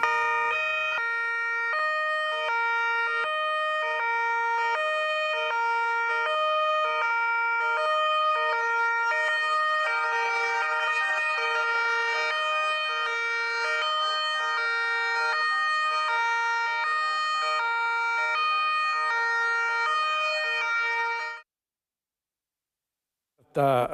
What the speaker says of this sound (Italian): l'ultimo saluto a Marco Seffino lo danno le sirene delle auto di tutte le forze dell'ordine